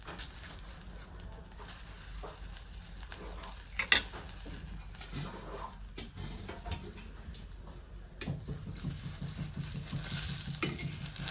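An egg and bread mixture cooking in a pan, a quiet sizzle with scattered scrapes and clinks from a spatula, uneven and fairly faint, no talking.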